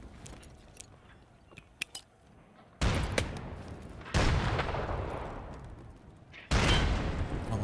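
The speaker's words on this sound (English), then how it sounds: "Let's throw the nade right here." A grenade thrown and exploding in Escape from Tarkov: Arena, with a few light clicks followed by loud, broad blasts and heavy rumbling bursts that repeat in close succession.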